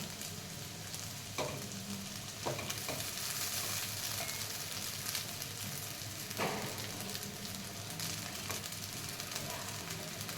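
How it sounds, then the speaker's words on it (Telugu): Cooked rice is stirred into a sizzling vegetable fried rice mixture in a pan, with a steady, quiet frying hiss and a few distinct scraping strokes of the spoon, heard close up. "సో ఇప్పుడు ఇందులో రైస్ కలిపి రైస్ వేస్తూ"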